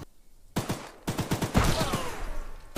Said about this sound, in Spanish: Es de los que me disparan.